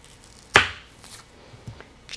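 A kitchen knife cuts through half an onion on a board, one crisp slicing chop standing out clearly in an otherwise quiet space, followed by a couple of faint softer taps.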